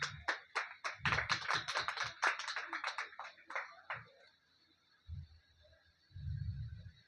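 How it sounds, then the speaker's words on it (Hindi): Applause from an audience welcoming a guest at a Hariyali festival gathering, a brief burst of scattered, close claps that fades out, followed by a few isolated low thumps. "एक बार जोरदार तालियों से स्वागत किया जाए मैम का।"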